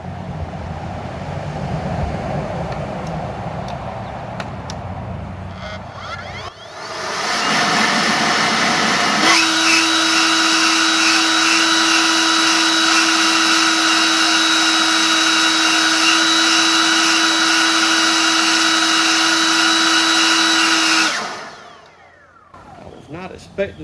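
An EGO cordless leaf blower fitted with a replacement brushless motor controller spins up to a loud, steady whining roar that holds for about fifteen seconds, then winds down. Quieter background sound comes before it.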